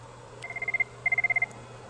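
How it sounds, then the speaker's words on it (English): A telephone rings twice in close succession, each ring a fast warbling electronic trill, over a steady low hum, as an automated Cisco iPix system places an alert call to security. "At this point, the demo engineer will answer the phone."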